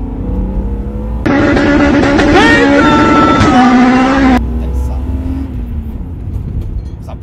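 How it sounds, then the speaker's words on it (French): A warmed-up number 36 car accelerates hard, a loud rising engine note climbing through gears for about three seconds before cutting back to a quieter idle-like rumble, with background noise throughout. "on va se quitter sur une petite accélération de la 36 maintenant qu'elle est chaude"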